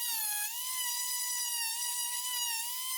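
Dremel rotary tool spinning a coarse bit while roughing out a wood spirit carving, a steady high-pitched whine held continuously and close with only slight pitch dips.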